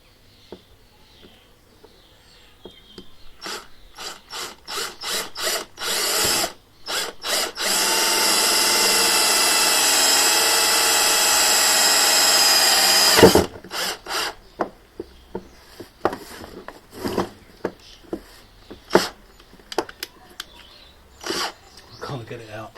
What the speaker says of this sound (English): And then I'm going to drill through.